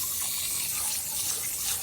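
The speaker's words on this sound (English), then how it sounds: "One last little spritz" A water spray hisses continuously and close as a tilapia aquarium cascade filter gets rinsed, a steady bright spritzing with no talking.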